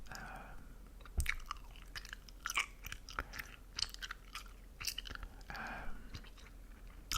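Gum is chewed close to the mic in a quiet room, with soft wet smacks and irregular crisp clicks scattered over several seconds and faint breathy whispering now and then.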